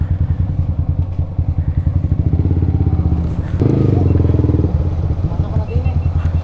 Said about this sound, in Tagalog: Ikaw muna mauna, malaki yung motor mo.